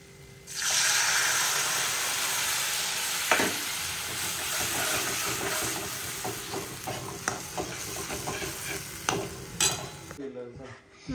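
Tempering spices drop into hot oil in a home kitchen during Dussehra cooking and set off a loud, continuous sizzle. Faint stirring clinks break through the sizzle, which stops abruptly at the end.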